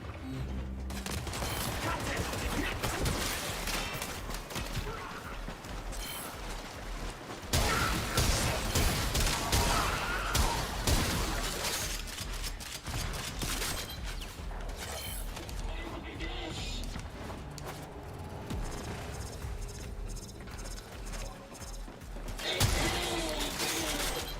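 Heavy Cyclops array guns firing in Warframe, a dense, continuous barrage of booming shots with mechanical creaks and clanks, loud and sustained throughout with no speech over it.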